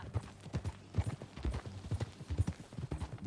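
Hooves of a horse in Red Dead Redemption 2 clip-clop in a steady, rhythmic walking gait, close and moderately loud, with a few soft thuds between steps.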